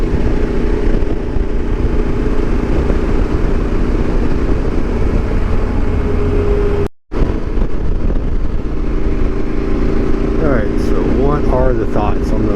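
Riding a Yamaha Super Tenere motorcycle carrying a passenger and luggage fills the clip with loud, steady engine drone and wind roar, briefly cutting out midway, with muffled talk at times.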